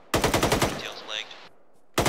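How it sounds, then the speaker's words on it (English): Automatic gunfire from a military combat game session: a rapid burst of about eight loud shots, a brief tonal whine, then silence before another shot begins. "Taking fire from the barn and from our southeast, unknown position."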